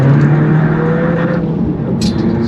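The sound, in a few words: MINI Cooper SD B47 diesel engine pulling in second gear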